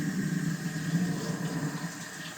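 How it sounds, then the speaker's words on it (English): Warm water runs steadily from a sink faucet, a constant close gushing flow with a low rumble, lasting the full moment without voices. "I'm going to run warm water."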